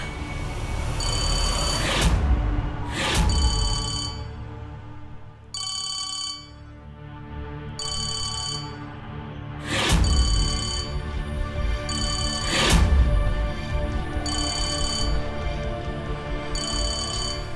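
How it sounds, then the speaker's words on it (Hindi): A phone ringtone rings repeatedly in bursts of bright electronic tones, accompanied by louder thuds and background noise throughout. "सांझ फोन उठा।"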